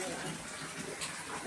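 Cold water poured to bathe a small child, a steady splashing gush that runs unbroken and fairly close for the whole moment.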